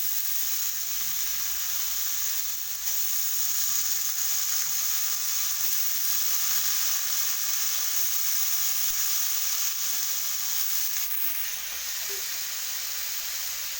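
Potatoes sizzle and fry in a pan with salt and turmeric, a steady, continuous hiss of hot oil that stays even and fairly soft throughout, with no voices.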